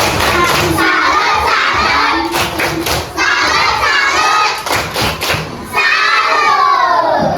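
Third-grade schoolchildren in a Makassar classroom do a rhythmic clapping chant together, a loud, close mix of sharp claps, thumps and excited young voices shouting in unison, with a brief lull midway before the chant surges back.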